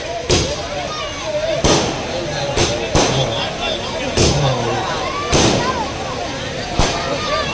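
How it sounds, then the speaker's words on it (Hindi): Firecrackers burst repeatedly at an outdoor political rally, sharp loud bangs recurring every second or so over a steady murmur of crowd chatter. "वो पटाखेबाजी बंद कर दो वहाँ से"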